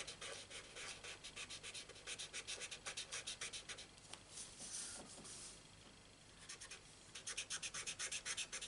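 Marker nibs scratching and rubbing across paper while colouring in a stamped cake image, a faint, close, continuous scritching in short rhythmic bursts with brief pauses.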